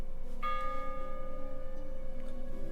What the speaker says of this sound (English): why is there fucking bells ringing when time isn't passing?